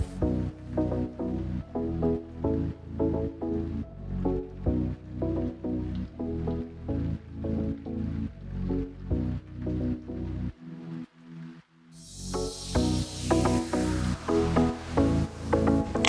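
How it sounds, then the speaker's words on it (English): A wet sponge wipes grout off floor tiles in a quick, regular rhythm of squelchy strokes that pause briefly before the wiping starts again. "you use a wet sponge to wipe the tiles clean"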